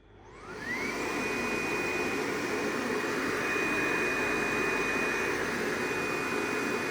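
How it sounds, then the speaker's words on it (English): A steady, loud whooshing motor hum from the vacuum suction of a Focus Cobra 69s single-pass corrugated cardboard printer starts up and holds constant, with a thin high whine rising and then staying level throughout. "First, we open the vacuum."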